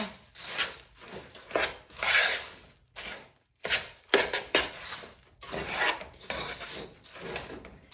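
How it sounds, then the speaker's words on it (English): Rice Krispie treats mixed with a spoon in a bowl, sticky rubbing and crunching strokes that come in uneven bursts with short pauses, close and moderately loud. "It's gonna get stuck to your spoon, just keep mixing."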